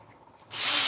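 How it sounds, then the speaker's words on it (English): A power drill bores a screw hole in wood, starting abruptly after a quiet moment and whirring loudly and close at a steady pitch. "I'm gonna drill a hole"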